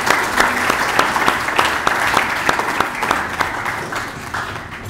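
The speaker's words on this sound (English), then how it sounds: "Clap yourself" An audience at a spiritual retreat in a Sai Centre hall claps together, a loud sustained applause with distinct individual claps standing out near the listener, with a few murmuring voices beneath.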